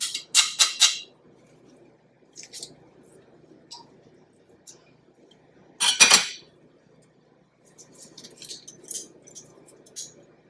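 A metal garlic press squeezes garlic in a home kitchen, giving sharp, close metallic clinks and scrapes in short separated bursts, loudest at the start and midway, with small ticks and rattles between.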